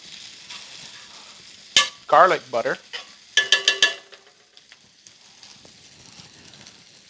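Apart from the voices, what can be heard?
peppers and onions sizzling in pan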